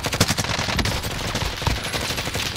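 Rapid bursts of video game gunfire, close and loud, with irregular clustered shots and sharp repeated cracks filling the stretch.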